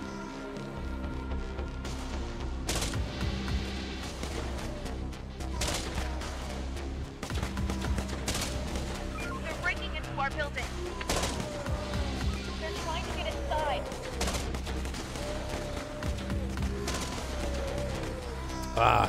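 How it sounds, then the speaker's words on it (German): Rapid bursts of assault rifle fire from a video game, crackling repeatedly over a dense, steady backdrop of game noise and rumble. "Das sind die ersten Schüsse von unserem Sturmgewehr."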